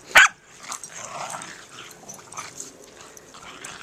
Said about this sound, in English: She likes to growl play.